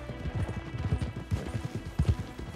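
Horse hooves clip-clop steadily in Red Dead Redemption 2, a close, rhythmic trot of several beats without speech.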